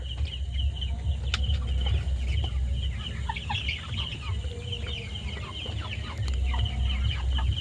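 Tiger chickens and chicks on a poultry farm cluck steadily throughout, with many overlapping calls at close to mid range over a constant low rumble of background noise.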